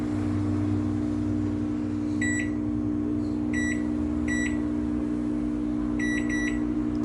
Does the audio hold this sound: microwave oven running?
yes